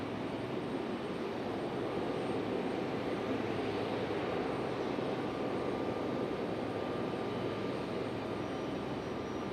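An airplane at Raleigh-Durham airport makes a steady, broad engine roar from the runway, even in loudness throughout and heard from a distance without any talking.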